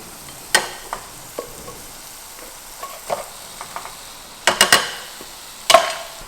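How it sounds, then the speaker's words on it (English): Jackfruit frying with onions and spices in a pan in a camper van gives a soft background sizzle broken by sharp scrapes and clacks of stirring, scattered then bunched near the end, close and without speech. "in with the jackfruit now. Just let that all kind of brown off and meld in with the onions and the spices"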